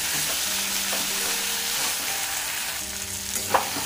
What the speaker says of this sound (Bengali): মশলাটা খুব সুন্দর ভাজা হয়ে গেছে